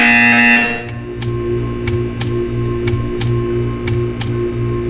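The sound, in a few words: buzzer sound in Portal 2 video game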